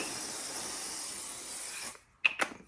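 Bedhead Head Rush shine spray hisses from an aerosol can in one steady, close burst lasting nearly two seconds, then cuts off, leaving near silence and a couple of faint clicks.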